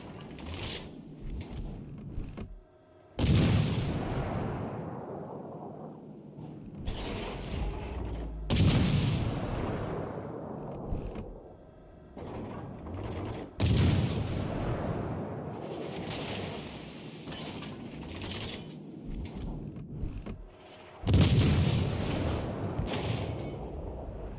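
Warship main guns in World of Warships Legends fire in several heavy booming salvos, each a sudden loud blast with a long rumbling decay, separated by quieter mechanical churn.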